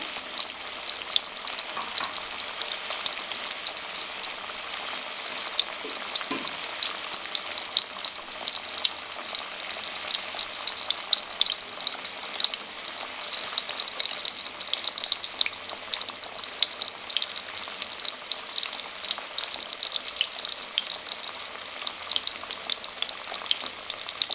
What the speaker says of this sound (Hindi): लो फ्लेम पे इनको अच्छे से फ्राई करेंगे।